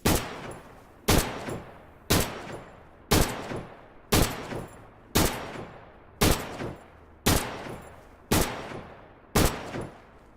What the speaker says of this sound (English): This is how fast you can fire with this gun.